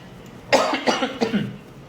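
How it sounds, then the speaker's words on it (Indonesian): A single close cough burst followed by a couple of rougher hacking coughs, loud and near, with quiet room tone around them. "Jadi batuk gue."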